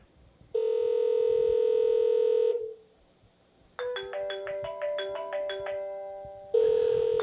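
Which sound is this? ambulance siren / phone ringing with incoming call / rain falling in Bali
phone ringing with incoming call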